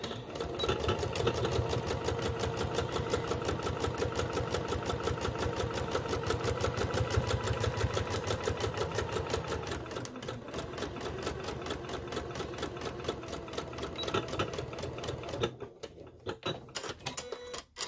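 A sewing machine stitches through paper at close range, a fast steady needle rhythm running continuously, then slowing and ending in a few short irregular bursts of stitching.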